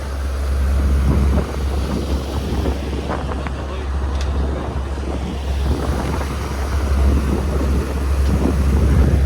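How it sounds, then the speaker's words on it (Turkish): Steady engine rumble and rushing water from a tour boat under way at sea off Sharm El Sheikh, with wind buffeting the microphone throughout. "Şimdi tekne turundayız. Teknemiz bu şekilde."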